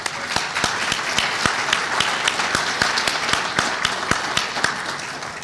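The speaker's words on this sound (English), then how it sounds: "And please acknowledge them with a round of applause." Sustained audience applause at the 2015 OAH awards ceremony, a dense wash of many hands clapping steadily with a few sharper individual claps standing out, loud and continuous throughout.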